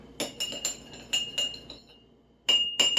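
A capsule of low dose naltrexone is stirred in a glass, the spoon striking the sides in several bright clinks, sets of quick taps with a short pause between them, close by and with no talk.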